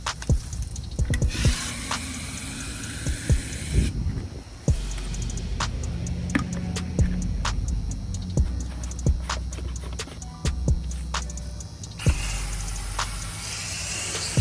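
Coil cleaner solution mixed with water is sprayed onto the sides of an outdoor AC unit, repeated hissing spray bursts with dripping and squishing water, close and moderately loud, interrupted by sharp clicks and handling noises.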